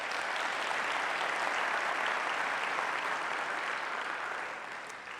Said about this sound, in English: how about a round of applause for all those folks?